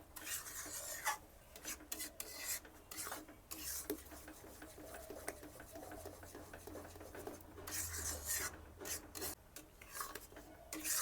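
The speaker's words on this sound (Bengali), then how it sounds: "ভালো করে নাড়তে থাকবো না হলে নিচেতে লেগে যাবে" A spoon scrapes and rasps against a pan while palm fruit pulp for kheer is stirred, producing continuous rough rubbing strokes, fairly close, with some quiet background noise.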